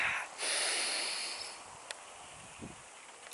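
A deep breath is drawn in through the nose, a long airy rushing inhale close to the ear, followed by a few faint small clicks and rustles in an otherwise quiet space.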